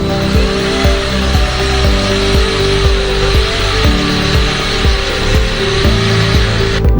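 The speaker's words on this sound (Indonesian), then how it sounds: "Buat perkiraan aja kita bor satu lubang dulu aja sebelah sini." An electric drill grinds steadily through thick steel, its motor whining loudly with repeated rhythmic surges as the bit bites, close by and continuous.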